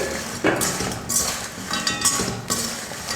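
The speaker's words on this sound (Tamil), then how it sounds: "இப்போ வறுத்து வச்சுக்கிற கிழங்கு சேர்த்துக்கிறேன்." Fried Chinese potato tubers tossed into masala in a pan, a spoon scraping and clinking against the metal in irregular strokes, close and fairly loud with no talking.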